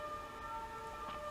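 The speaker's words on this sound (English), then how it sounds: "To those siren sounds outside" Sirens wail outside, a faint, steady, sustained tone that stays distant and muffled without speech over it.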